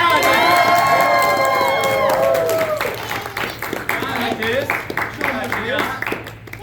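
A crowd at an anime convention cheers and shouts loudly, with excited voices and some clapping in the opening seconds, then the noise thins into scattered shouts and chatter.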